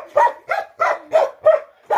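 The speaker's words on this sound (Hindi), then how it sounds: "ये देखिए ये है गांव के भोटिया कुत्ते जो बाघ को भी मार देते हैं।" Bhotia village dogs bark in a steady run of six loud, close barks at roughly even intervals, with no talk over them.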